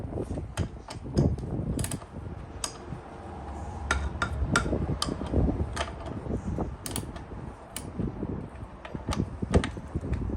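A pipe fitting being tightened with a wrench, with repeated metallic clicks and clanks of the tool on the fitting, close by and irregular, over a low room rumble, with no talking.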